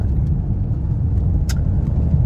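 A car driving through heavy traffic gives a steady, low engine and road rumble throughout, with a brief brighter hiss near the middle and no talking.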